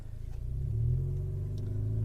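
A catless-downpipe Alfa Romeo Giulia 2.0T engine rumbles low and loud, rising in pitch as it revs, a steady, close drone with no talk.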